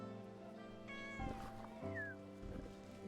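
A cat meows in the video game Wytchwood, a few drawn-out mews rising and falling over a steady game music bed, close and moderately loud.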